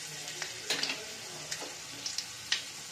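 Bay leaf, dried chilli and whole spices sizzle in hot oil for a mutton dish, a steady close crackle with sharp pops and scraping stirs scattered throughout.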